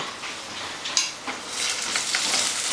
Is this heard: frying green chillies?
yes